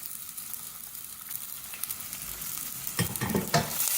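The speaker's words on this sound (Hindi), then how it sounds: "अब साथ ही हम प्याज शामिल कर देंगे" Finely chopped onions fry in oil with cumin for masala mutton, a steady close sizzle that swells near the end as stirring scrapes and clinks join in.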